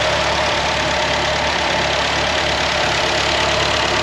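A 1963 Datsun Fairlady with an overheating problem idles steadily, its engine giving a constant close, loud rumble with no talking over it.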